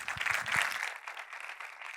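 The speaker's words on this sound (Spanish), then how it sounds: "Un aplauso, por favor." Audience applause at a Red Team security talk in a conference hall, a short burst of clapping that starts fairly strong and quickly thins to a fainter, scattered patter.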